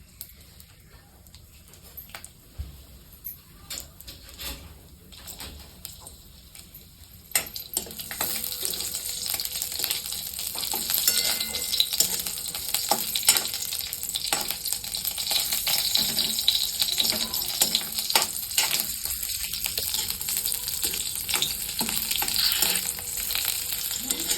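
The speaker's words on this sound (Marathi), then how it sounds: "भाजण्यासाठी मी थोडंसं तेल घेतलंय चार हिरव्या मिरच्या त्या थोडा लसूण आहे" Green chillies and a little garlic roasting in oil in a pan for a fresh pigeon pea chutney, a steady close sizzle that starts quietly and grows louder and denser after the first few seconds, with occasional stirring clicks and no talk.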